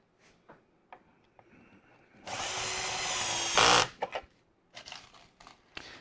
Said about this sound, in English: These screws are going in around 14 millimeters, which is fantastic